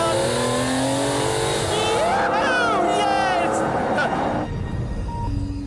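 A McLaren F1 road car accelerates hard out of a chicane, its engine loud and close with rising, sweeping revs through gear changes, while someone talks over it.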